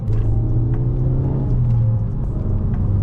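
A Ford Focus ST engine rumbles loudly up close, its deep exhaust note swelling and holding steady as it revs, with no one speaking.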